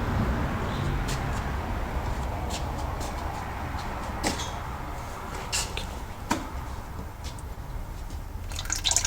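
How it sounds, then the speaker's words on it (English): Gearbox oil pumped into a 2010 VW Crafter 6-speed automated gearbox until it runs from the overfill, a steady low pumping rumble with scattered drips and light metallic ticks. "Just going to pump the oil in until it comes out of that overfill there"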